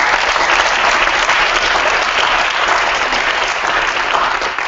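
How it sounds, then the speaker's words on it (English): An audience at a worldwide siyum celebration claps steadily, a dense, loud wash of applause that holds evenly from start to finish with no voices rising above it. "I would just like to give these ladies a round of applause."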